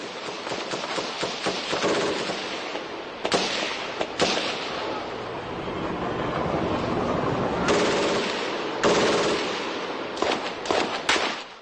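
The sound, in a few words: MG3 machine gun firing in combat footage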